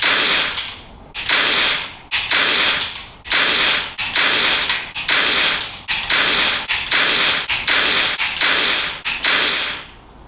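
Quantum XG laser training pistol firing repeatedly, about a dozen sharp clicky shots in a steady rhythm roughly one per second, loud and close with no talk.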